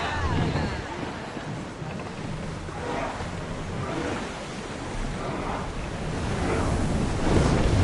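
A ship sailing through ocean waves in Assassin's Creed Odyssey, a continuous roar of surf and wind rushing past the hull that swells and eases, with a voice briefly heard over it.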